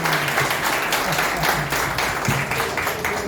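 An audience at a cultural opening ceremony in Goiás, Brazil, applauds in a dense, loud, sustained wash of clapping that holds steady for the whole stretch, with no clear talk over it.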